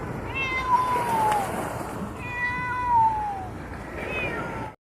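A cat gives two long, clear meows with a rising-falling tone, then a shorter third call, loud and close with steady background hiss around a fishing catch.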